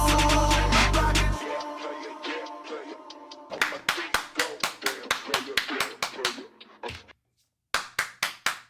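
Clapping from a music-reaction setting, with music fading out before a series of sharp, close hand claps in a regular rhythm, briefly pausing and then resuming for a few more claps.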